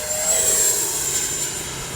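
An FMS 70mm Viper RC electric ducted-fan jet spooling up to full throttle, a steady loud high-pitched whine with a constant tone above broadband rushing air, sustained through the whole two seconds.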